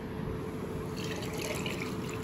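Water squeezed from a chamois car-cleaning cloth drips and trickles steadily, close and fairly loud, with the wet splashing getting busier partway through.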